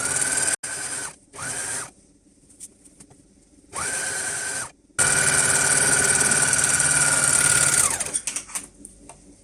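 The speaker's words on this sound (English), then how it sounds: "And I'll just quickly overlock it right around." Overlocker serging a seam on pyjama pants: several short bursts of loud, fast whirring stitching, then a longer continuous run that slows and fades, close up with no talking.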